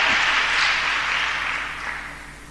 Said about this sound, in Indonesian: Tepuk tangan, saudaraku.